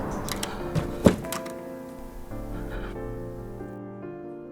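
A few muffled knocks on a door in a horror video game, one heavier thud standing out, followed by lingering tonal game music that fades toward the end.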